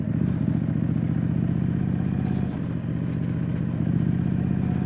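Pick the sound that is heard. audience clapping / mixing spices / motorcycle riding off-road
motorcycle riding off-road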